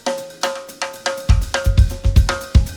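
Sharp, ringing snare rim hits repeat in a quick rhythm, each with a bright metallic overtone, some paired with low drum thumps.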